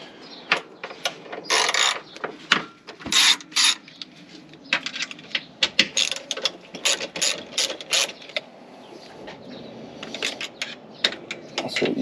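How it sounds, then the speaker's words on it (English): A hand ratchet loosens 10mm bolts on rear RR Racing R3 coilovers, giving repeated bursts of close, sharp clicking with short pauses and small metallic clinks between them. "Another 10mm. Alright, so let's take those off."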